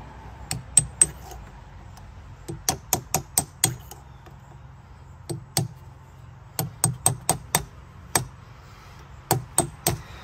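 A hammer drives a chisel against an early-2000s Mercedes ABS wheel-speed reluctance ring, giving sharp metallic knocks in quick clusters of three to five blows separated by short pauses, close and alone with no talking.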